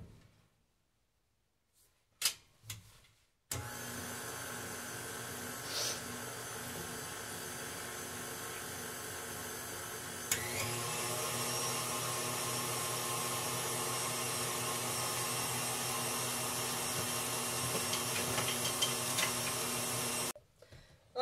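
An electric stand mixer beating a chocolate and peanut butter dessert mixture, a steady loud motor whir that starts abruptly, steps up in intensity partway through, then cuts off, with a few clicks before it starts.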